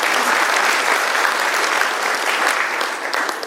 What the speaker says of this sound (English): so give yourself a clap.